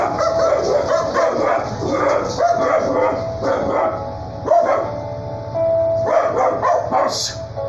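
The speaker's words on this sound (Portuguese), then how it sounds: "É os cachorros latindo." Several dogs bark repeatedly, loud and close, in overlapping bursts with brief yips throughout.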